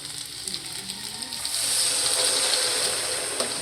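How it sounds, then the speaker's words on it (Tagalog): Water pours into a hot cooking pan where a pechay dish is being prepared, a steady hissing sizzle that swells and stays loud near the mic, with no talking. "lalagyan na natin siya ng tubig"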